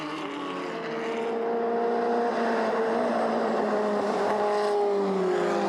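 Race cars driven by Jean-Francois Veilleux and Marc Momani run a wet track, their engines giving a steady, close drone whose pitch rises and falls smoothly as they battle through the corners.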